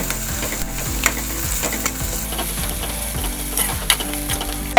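Ginger and garlic frying in hot oil for a vegetarian thali, a steady close sizzle with repeated clinks and scrapes of a stirring spoon against the pan, no voices.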